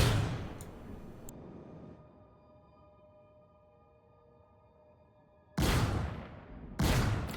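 Anvil Hawk ship cannons in Star Citizen, distortion and bearing cannons tied to one fire button, open with a loud burst, give way to a quiet humming stretch, then boom twice more near the end.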